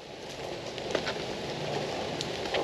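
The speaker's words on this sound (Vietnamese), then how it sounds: "Trời này cũng mưa lất gắt rồi." Heavy rain pours steadily outdoors in the Mekong Delta countryside near a hilltop burial ground, a dense, continuous hiss with scattered drop impacts and no voices.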